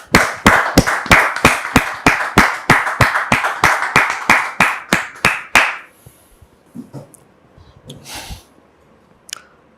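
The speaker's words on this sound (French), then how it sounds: "Recevons maintenant le frère Philippe sous vos applaudissements." A church congregation claps together to welcome a pastor, a steady run of about twenty crisp, even claps for six seconds that then stops, leaving a few faint scattered sounds in a quiet room.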